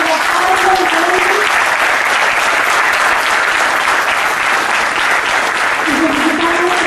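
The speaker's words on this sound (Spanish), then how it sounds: "Un fuerte aplauso para Pablo y Carolina." Sustained applause from an audience at a book launch for a collection of secondary students' testimonies, dense and steady throughout, with faint voices briefly audible over the clapping.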